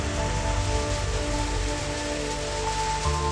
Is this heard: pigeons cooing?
no